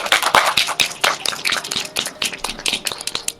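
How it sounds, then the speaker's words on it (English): An audience at an anime convention panel claps in a dense, uneven burst of applause from nearby listeners, with no one speaking over it. "Give him a round of applause."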